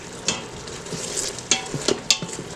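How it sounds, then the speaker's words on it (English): Honey garlic pork chop chunks stirred in an Instant Pot, with a spoon scraping and clacking against the pot in a few sharp knocks over a soft low sizzle. "And give it another stir."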